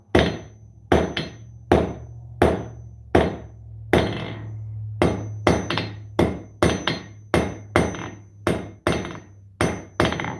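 A hammer forges a taper on overheated hot steel at an anvil, striking about seventeen loud, ringing blows in a steady rhythm with a low hum running beneath.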